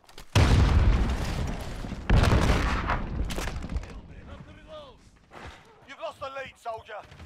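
Grenade blasts in the shooter game Call of Duty: Modern Warfare, two loud booming explosions one after another up close, each rumbling out, followed by voices shouting over fading battle noise.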